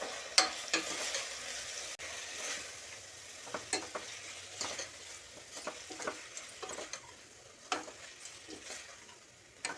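Bottle gourd dal with turmeric, salt and chilli powder being stirred and cooked in a pan, giving soft scraping stirs and light sizzling with scattered clicks of the spoon against the pan, alone and fairly quiet.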